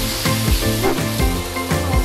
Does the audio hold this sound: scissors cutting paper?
no